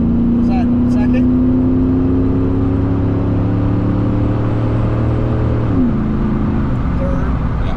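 LS-swapped 2005 Silverado truck under hard acceleration, a loud, steady engine drone rising in pitch and then dropping at a shift, heard from inside with a voice briefly over it.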